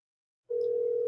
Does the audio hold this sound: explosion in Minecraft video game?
no